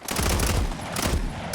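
Sustained automatic gunfire from the video game Fallout 4, rapid overlapping shots forming a loud, continuous fusillade with a brief lull midway before another burst.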